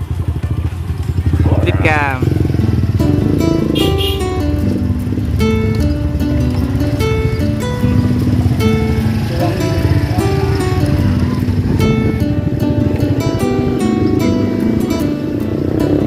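Motorcycle riding along a road on Balut Island, Sarangani, Davao Occidental, its engine droning loud and close throughout, with wind and road noise, music playing, and a voice speaking briefly.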